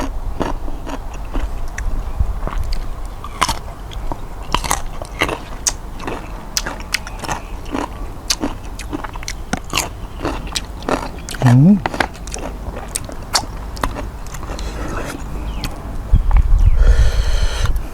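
Crisp maprang fruit, a small sour Thai plum-mango, being bitten and chewed close to the mic, with repeated sharp crunches spread through the stretch, and a person speaking in between.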